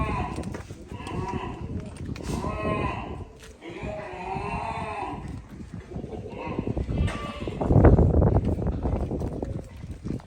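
Goats being tethered for Bakrid bleat now and then amid farmyard clatter and hoof sounds, with people talking throughout and a louder burst of commotion near the end.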